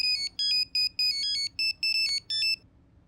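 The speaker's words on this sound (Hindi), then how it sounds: "करण सर का फोन है।" A phone ringtone plays a quick repeating electronic melody in short bright bursts, loud and close, then stops abruptly.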